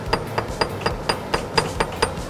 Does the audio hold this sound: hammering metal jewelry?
yes